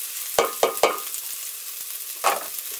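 Cumin seeds and chopped chilies hitting hot oil for a vegetarian chili, a few sharp close clacks of spoon on pan over a soft steady sizzle, no voices.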